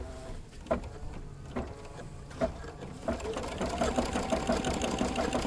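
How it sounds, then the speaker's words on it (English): A combined sewing and embroidery machine stitches while couching yarn onto fabric. It starts with a few slow separate needle thumps, then settles into a fast, even mechanical chatter, close and loud, with no one talking. "So now I'm going to start embroidering."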